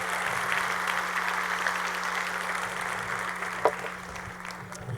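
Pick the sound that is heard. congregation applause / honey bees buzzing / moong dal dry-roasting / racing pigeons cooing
congregation applause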